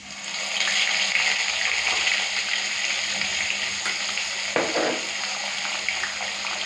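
Onion paste hits hot mustard oil already fried with bay leaves and whole cumin, giving a loud, continuous sizzling hiss close to the pan, with a brief clatter near the fifth second and no talk.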